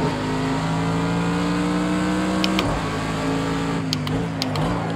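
A Mercedes-AMG GT3 race car engine in the Project Cars 2 racing game holds a steady loud drone. A few upshift stutters and rev changes break it near the end, and there is no talk.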